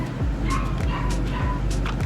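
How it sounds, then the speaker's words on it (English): Several dogs bark and yip in repeated bursts at a steady distance, filling the short stretch without pause, with faint talking underneath. "These dogs, and it's like, why are they barking?"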